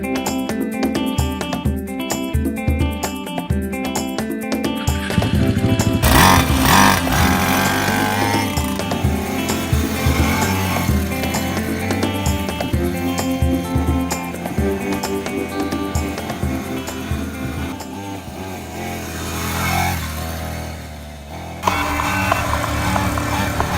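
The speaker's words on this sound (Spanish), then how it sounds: "Voy a usar mi moto." A kids' motorcycle rides through a forest, its small engine buzzing steadily and close for the whole stretch, with pitch shifts as it speeds up and slows, and a brief dip near the end before it picks up again.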